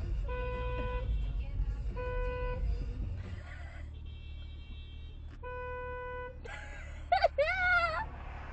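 Car horns honk in traffic, a series of repeated beeps of steady tone in several bursts over low road rumble, followed by a short squeaky sound near the end.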